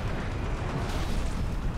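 A Halo Reach drop ship arrives in a dense, steady roar of engine rumble and blasting noise that fills the whole stretch with no pause.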